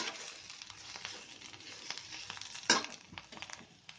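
Bitter gourd frying and being stirred in a pan, a steady soft sizzle broken by scraping stirs and one sharp clatter near the end, close and without talk.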